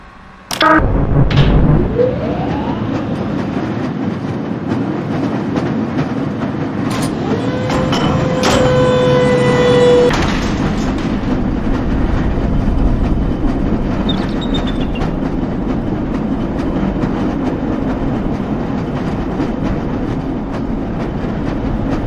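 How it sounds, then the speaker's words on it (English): A lever-controlled train in the Half-Life Black Mesa hazard course rumbles loudly along its rails. A sharp clank opens the run, then a metallic squeal and a ringing mechanical tone rise over the continuous heavy rolling noise, with no talking. "This lever-controlled train will transport you to a location where your training associates are waiting for you"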